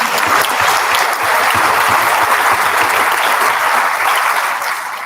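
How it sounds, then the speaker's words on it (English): Audience at a high school honor society induction giving a sustained round of applause, loud and even for five seconds before easing slightly at the end. "let's give a round of applause for them"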